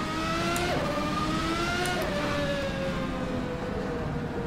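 A classic 1991 race car in rFactor 2 at Portland, its engine droning loud and close as it pulls out of the pit lane corners, with the pitch sliding up and dropping through gear changes.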